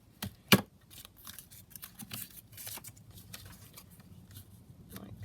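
A paper booklet sheet being trimmed with scissors, with one sharp snip up close followed by faint rustling and small cutting sounds.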